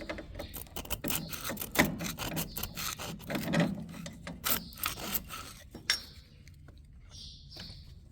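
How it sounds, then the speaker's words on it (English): A cloth rubs and rasps over the rusty, painted exterior of an old engine starter in short irregular strokes, close by, with a few faint clinks. "I'm just wiping off the exterior of the starter."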